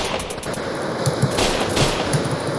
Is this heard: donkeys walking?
no